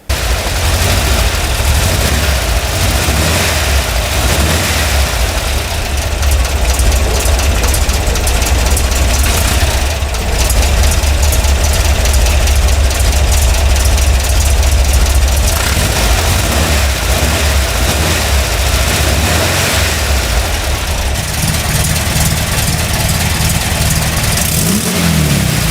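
A 1989 Volkswagen Kombi engine idles and revs in a home garage, a loud, continuous rough drone that swells with repeated throttle blips over a long stretch.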